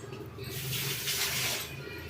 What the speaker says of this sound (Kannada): ನಾನೀಗ ಹೀರೆಕಾಯಿ ಸಿಪ್ಪೆ ತೆಕ್ಕೊಂಡಿದ್ದೀನಿ. ಇದನ್ನು ತೊಳ್ಕೊಂಡು ಬರ್ತೀನಿ.